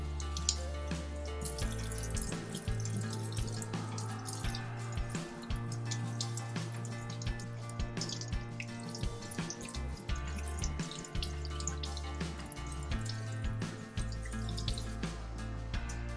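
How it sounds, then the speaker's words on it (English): Running tap water rinsing a K&N air filter at low pressure, a steady close splashing stream that continues unbroken without talk. "So I just finished rinsing out the filter."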